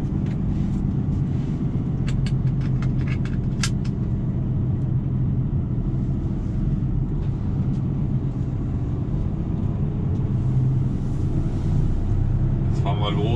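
A heavy truck sets off driving, its low diesel rumble steady and close from inside the cab, with someone talking over the engine noise.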